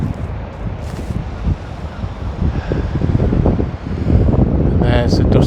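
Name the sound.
cold wind blowing into the microphone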